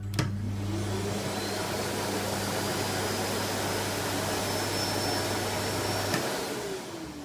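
An old 2200-watt bagged vacuum cleaner runs with a constant loud roaring whoosh and steady low motor hum, cutting off near the end and leaving a fading whine.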